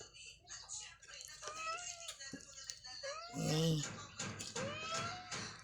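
A cat meows a few times in short, wavering cries close by, mixed in with people talking casually around it.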